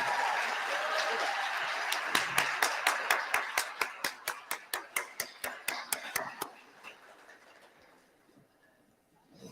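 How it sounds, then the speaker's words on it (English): Audience at a college convocation clapping for the school band as it stands, a burst of rhythmic unison claps in a steady beat over a crowd wash, then fading to quiet. "Let's give another round of applause."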